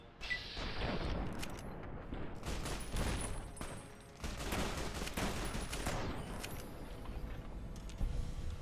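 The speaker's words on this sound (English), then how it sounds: "We're over here firing off grenade rifles and shit" Repeated booming explosive shots from grenade rifles in the Fallout: New Vegas game, loud and dense with overlapping blasts and gunfire-like cracks across the whole stretch.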